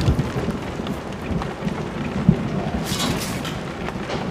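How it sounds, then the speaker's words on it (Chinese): Thunder rumbles and heavy rain falls in a broad, steady wash. A sharp crack of thunder stands out midway, and a brighter burst of rain hiss comes later, with no voices. "打雷下雨有什么好看的？"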